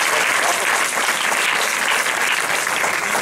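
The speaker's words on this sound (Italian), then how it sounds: "Quindi fatevi un applauso intanto." Steady, dense applause from a theatre audience at an evening event, filling the whole stretch loudly and evenly with no pause.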